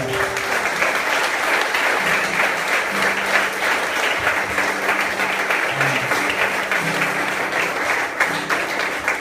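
Strong, steady applause fills a church worship service at a vocational camp, dense clapping held at even loudness throughout with faint voices underneath.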